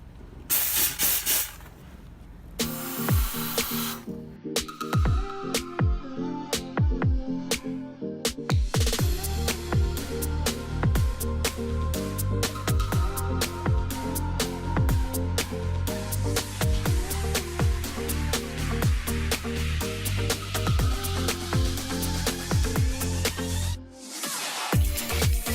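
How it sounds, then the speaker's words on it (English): Steam cleaner hissing up close while cleaning car cup holders, with long continuous jets broken by brief pauses and rapid spitting, crackling bursts of steam. "Whenever you guys are steam cleaning cup holders, be absolutely sure that there's no water in the cup holder before you steam clean it"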